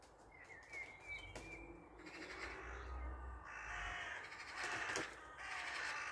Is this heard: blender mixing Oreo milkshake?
no